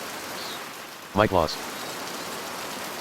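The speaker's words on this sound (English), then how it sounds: "I hope this rain lets up for you soon." Steady rain falls in Pentiment, an even hiss of drops on surfaces throughout, with a brief spoken voice in the middle.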